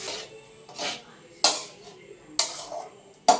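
A spoon scrapes and stirs egg rice with spice powder in a pan, in about five sharp, separate bursts of scraping with quiet gaps between them.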